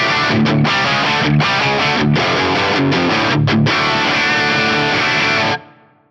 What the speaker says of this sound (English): let's just hear this amp model at stock settings with the cab and the reverb.